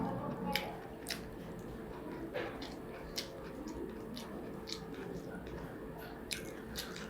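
Someone eats fried okra (bhindi bhaji) at a home lunch, with sharp, close crunchy bites and wet chewing that come at irregular moments over a low room background.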